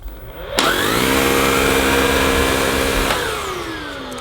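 A Samsung Powerstick Pro VS8000 cordless stick vacuum with a turbo action brush attached switches on with a sudden loud whine, holds a steady high motor drone for about two and a half seconds, then winds down as it is switched off.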